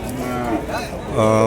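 Heifer calf lowing at a native cattle market in Krishnagiri district, a couple of close, drawn-out moos with a louder one near the end, over faint market background.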